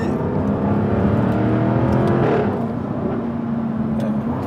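A Jaguar F-Type R sports car, 575 horsepower, revs hard and accelerates, a loud, steady roar with a rising pitch that eases off toward the end, no voices.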